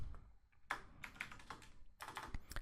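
Computer keyboard keys clatter in quick irregular bursts with short pauses, close and fairly quiet, while a Python Tkinter GUI program is written.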